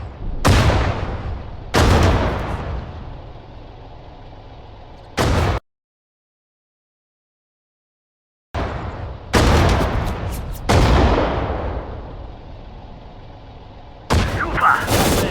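Gunfire and artillery blasts from the World War II strategy game Sudden Strike 4 land in several loud booming bursts with decaying rumbles, separated by a stretch of silence.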